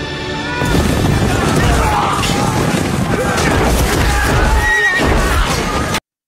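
Horses in a Game of Thrones battle scene, with a loud whinny over a chaotic din of hooves and clashing noise, while voices carry through the fray.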